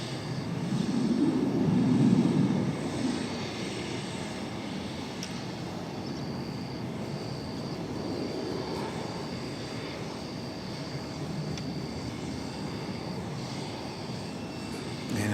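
Airplane at DFW Airport heard from a plane-spotting spot as a steady, fairly distant engine roar, a little louder early on and then holding a constant hum.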